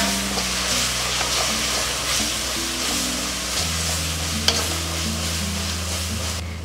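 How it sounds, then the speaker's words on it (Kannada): Salt, soy sauce and vinegar being stirred in a hot pan for Hakka noodles, a steady close sizzle with scraping stirring strokes throughout and one sharp clink near the end. "ರುಚಿಗೆ ಬೇಕಾದಷ್ಟು ಉಪ್ಪು, ಸೋಯಾ ಸಾಸು, ಹಾಗೆಯೇ ವಿನೆಗರ್, ಇವಿಷ್ಟನ್ನ ಚೆನ್ನಾಗಿ ಮಿಕ್ಸ್ ಮಾಡಿಕೊಳ್ಳುವ."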